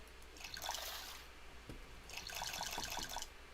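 Two short bursts of splashing, trickling water as drinking water is collected in the survival video game Raft, fairly close and quiet, with no talking.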